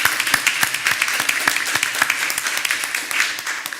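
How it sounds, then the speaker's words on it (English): Audience applause for Ella at a regular school board meeting, a steady, moderately loud stream of clapping with sharp individual claps running through it. "Let's all give her a round of applause,"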